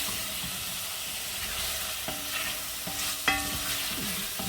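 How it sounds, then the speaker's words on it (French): Onions frying in a hot pan for a beer-braised beef shank recipe give a steady, close sizzle and hiss, with a few faint clinks of a utensil against the pan and no talk. "Donc là, on va faire bien revenir les oignons."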